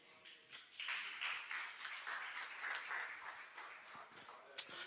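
Congregation clapping during a Sunday morning church service, a quiet, fairly distant wash of many hands that builds softly and holds steady, ending with one sharp nearby clap.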